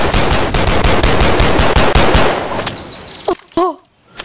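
Rapid automatic gunfire from a gun in the VR game Bonelab, loud and close, a sustained burst of shots for about two seconds that then thins out into scattered sounds.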